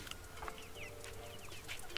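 Faint clucking and chirping from chickens amid a busy, low background hum, short calls scattered over a couple of seconds.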